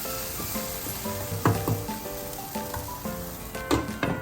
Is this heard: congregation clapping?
no